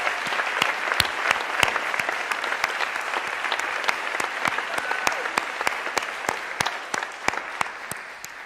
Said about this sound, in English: can we just have one more enormous round of applause for Toshi?